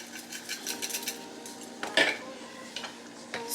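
Food seasoned with salt, onion powder, garlic and black pepper stirred in a pan at home, a quick series of close metallic scrapes and clinks of a utensil against the pan, with brief louder knocks.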